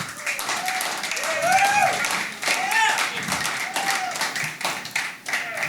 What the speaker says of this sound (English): please clap for our friend Arnie Van Bussel